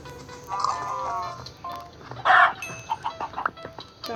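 A chicken in Minecraft clucks repeatedly in short bursts, with one louder squawk in the middle, against a faint background.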